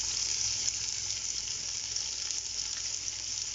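Whole black peppercorns and cumin seeds sizzle steadily in hot oil for Yakhni pulao, a continuous fine crackle close by with no talk.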